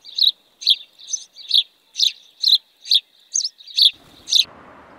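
House sparrow chirping close by, ten bright, evenly spaced chirps about half a second apart, clear and loud against a quiet background, with faint rustling at the end.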